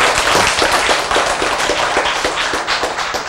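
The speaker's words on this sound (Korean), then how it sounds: "여러분이 지금 박수를 많이 쳤습니다" A lecture audience claps vigorously, a dense, steady patter of many hands close by, continuous throughout with no voices over it.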